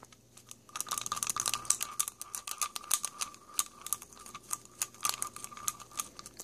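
Gundam marker enamel paint stirred with a stir stick, a busy run of small clicking taps and scraping ticks against the container, close and fairly quiet, with no talking.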